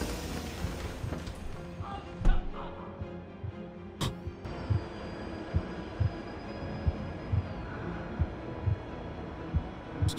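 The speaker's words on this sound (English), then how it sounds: "I can hear a heartbeat." A slow, steady low thumping heartbeat in The Outlast Trials pulses at regular intervals over a dim electronic hum, with a few sharp clicks early on.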